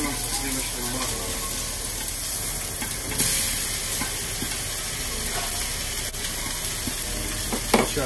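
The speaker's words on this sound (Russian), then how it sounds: "а этот будем доводить уже на плите с тимьяном, с розмарином, со сливочным маслом" Beef steak sizzles and fries in a pan on the stove with thyme, rosemary and butter, a steady close crackling hiss filling the whole stretch with a few brighter spatters.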